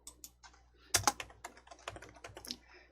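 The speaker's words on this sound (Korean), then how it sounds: "지우개 입력하시고 엔터" Quick keystrokes on a computer keyboard, irregular clacks with a louder cluster near the middle that fits an enter press, close and clear with no voices.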